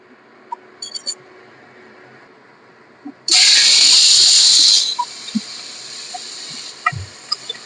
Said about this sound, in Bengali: চিংড়ি মাছ ভাজবার জন্য কড়াইতে দিয়ে দিলাম সরষের তেল